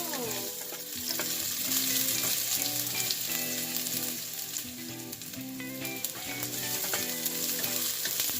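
Ginger fries in hot oil for a Filipino chicken tinola, a dense steady sizzle up close with occasional stirring scrapes and a musical backing underneath, no voices.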